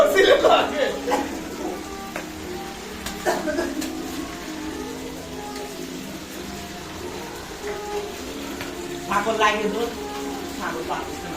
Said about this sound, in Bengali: ভালো করে নেড়ে দেন, তলে দেন।